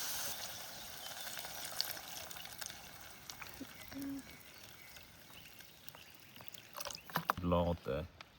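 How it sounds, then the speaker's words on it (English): Water poured into a pan of browned onions and lard with the heat off, a faint trickling hiss under quiet background noise, then louder splashing bursts near the end. "Then I'm going to pour in some water."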